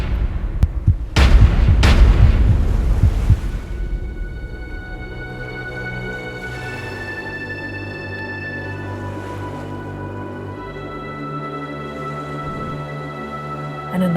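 Gunshots in an animated story, two or three loud booming blasts close together at the start, then a sustained musical tone and low rumble.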